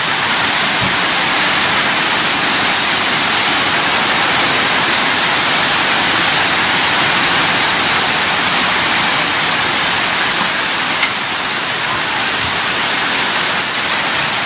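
A sustained downpour of heavy rain hisses and roars without letup, loud and near, holding an even wash of sound throughout with no talking.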